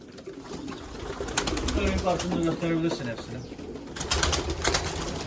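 Racing homing pigeons in a loft coo softly in a steady, overlapping murmur close by, with a person talking over the birds throughout.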